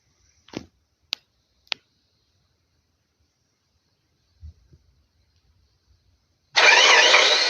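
A car engine in a Minecraft game: a few sharp clicks and thumps, then the engine bursts to life loudly near the end and keeps running.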